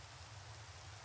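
Rain falling in the Minecraft video game, a steady, even wash of noise with no talk over it.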